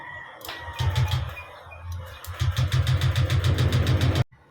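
A misfiring Honda Click 125 scooter engine runs unevenly, its putter stumbling and surging in an irregular rhythm before cutting off abruptly near the end.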